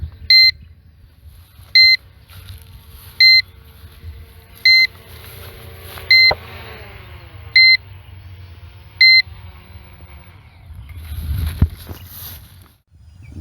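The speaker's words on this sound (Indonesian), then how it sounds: "Oh, ini baru bunyi bip-bip." A series of seven short, evenly spaced electronic low-battery warning beeps from a D18 drone, about 1.5 seconds apart, sounds over a low steady hum with faint wind.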